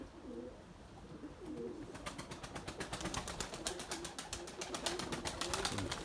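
Young white pigeons cooing in a loft, a steady low murmur of several birds with rapid fluttering wing beats rising from about two seconds on and continuing to the end.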